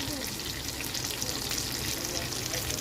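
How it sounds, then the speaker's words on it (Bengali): Garlic with dried and green chillies frying in hot oil in a pan, a steady close sizzle throughout with no talking. "এই তেলের মধ্যে একটু রসুন ভেজে নেব"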